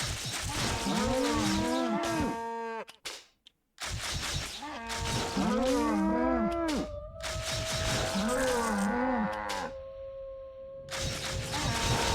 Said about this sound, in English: Herd the cows.